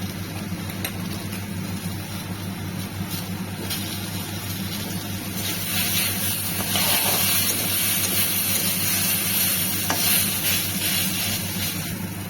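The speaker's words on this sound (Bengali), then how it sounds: "তো আমি এখন দিয়ে দেবো লঙ্কা আর আদা বাটা" Green chili and ginger paste fries in a pan with turmeric and salt, giving a continuous sizzle with intermittent stirring scrapes over a steady low hum, no speech.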